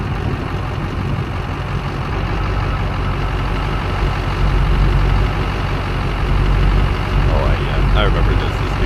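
A big blue GMC truck drives through town, its engine a steady, loud low rumble that runs the whole time, with road and cabin noise and no one talking.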